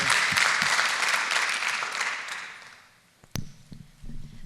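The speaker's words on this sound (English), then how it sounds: "Round of applause for our volunteer." An audience at a talk event applauds a volunteer coming up to the microphone, steady clapping that fades out, followed by a couple of close thumps and footsteps.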